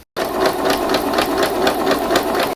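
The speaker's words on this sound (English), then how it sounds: "So we can start sewing." A sewing machine runs steadily, stitching two fabric pieces together for an elastic bowl cover, with a fast even pulsing hum that starts abruptly and continues nearly unbroken.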